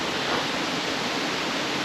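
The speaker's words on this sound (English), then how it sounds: "Corney Brook Falls." Corney Brook Falls waterfall, a steady broadband rush of falling water heard alone, even and continuous, moderately distant and fairly quiet.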